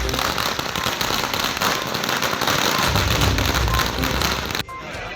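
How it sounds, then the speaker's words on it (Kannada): A string of firecrackers bursts at an MLA's birthday celebration in Alur, Karnataka, with dense, rapid crackling and popping that runs continuously before dropping off abruptly near the end. "ಶಾಸಕ ಸಿಮೆಂಟ್ ಮಂಜು ಅವರ ಹುಟ್ಟುಹಬ್ಬದ ಪ್ರಯುಕ್ತ ಪಟಾಕಿ ಸಿಡಿಸಿ ಕೇಕ್ ಕತ್ತರಿಸಿ ಸಿಹಿ ಹಂಚುವ ಮೂಲಕ ಆಚರಿಸಲಾಯಿತು."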